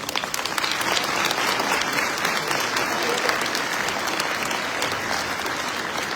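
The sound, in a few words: audience applause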